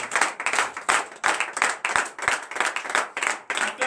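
A congregation at a Friday morning prayer service clapping together in a steady, brisk rhythm of repeated claps, loud and close, with almost no talk.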